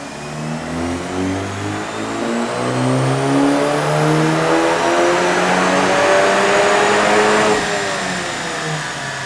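A VW Golf MK8 GTI running ethanol blend on a dyno revs hard through the gears, a loud rising engine whine climbing and dropping in steps before easing off near the end.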